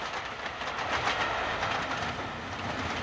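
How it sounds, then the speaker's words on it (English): A train runs steadily, with a continuous rolling rumble and faint rhythmic clatter of wheels on track, heard at moderate level with no voices. "are we taking this train to El Paranzo?"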